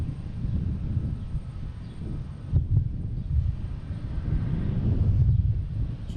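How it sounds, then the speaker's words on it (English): Delta Embraer E175 jet arriving at Boston Logan International Airport from Charlotte, a steady low rumble of the approaching aircraft heard from outside, building slightly toward the end, with wind buffeting the microphone. "Next one is a Delta E175 from Charlotte"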